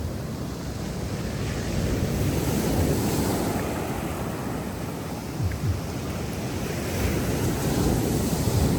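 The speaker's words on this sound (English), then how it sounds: "All I can hear is these waves." Ocean surf roars continuously on a shore in Antique, Philippines, waves breaking and washing in close by, with a rushing windy texture and no voices.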